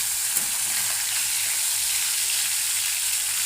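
Fish pieces frying in hot oil for a Bengali fish curry, giving a steady, dense, close sizzle that holds evenly throughout with no talking.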